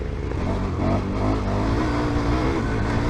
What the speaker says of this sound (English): That's the back wheel spinning!